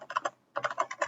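Quick bursts of clicking keys on a computer keyboard as someone types code for a student registration program, close and clear with a short pause in the middle.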